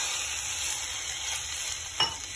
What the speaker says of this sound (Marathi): अच्छा बघा, फोडणी अशी होते।